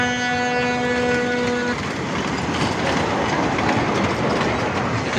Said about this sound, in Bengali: এটি ছোট ট্রেন